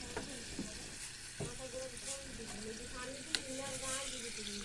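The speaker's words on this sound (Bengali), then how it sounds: "মাংস আর মুগ ডালগুলো নাড়াচাড়া করতেছি ভালো করে" Chicken meat and mung dal stirred and fried together in a pan, a low sizzle with scraping and clattering spatula strokes, a few sharper knocks, close and fairly quiet.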